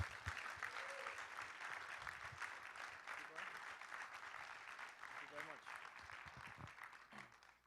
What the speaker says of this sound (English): join me as we welcome Mr. Anderson Chester with a round of applause